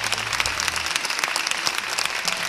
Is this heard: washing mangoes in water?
no